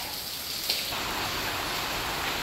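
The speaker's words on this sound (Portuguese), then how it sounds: "muita chuva no Crato nesse momento, olha aí, David Viana" Heavy rain falls in Crato, Ceará as a dense, continuous hiss of drops striking surfaces, loud and close, with no voices over it.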